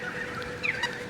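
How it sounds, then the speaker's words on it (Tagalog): Birds calling overhead in Canberra's city center, a few short honking, squawking cries standing out over a quiet outdoor hum. "Daming ibon dyan sa taas."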